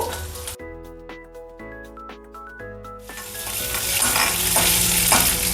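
Green chillies and curry leaves dropped into hot oil for a Kannada-style zunka (besan curry), giving a sharp burst of sizzling that swells into a loud, continuous frying hiss with faint tonal ringing early on.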